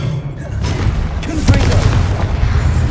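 Spell casting in the video game Hogwarts Legacy during the Expelliarmus disarming charm, loud booming impacts and bursts layered over a steady rumbling game soundscape.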